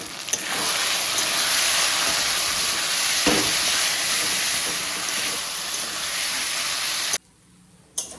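Soybean chunks frying with potatoes and spices in a pan, a steady close sizzle and hiss holding for several seconds before cutting off near the end.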